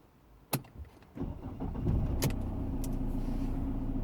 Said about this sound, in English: I'm gonna start the engine again.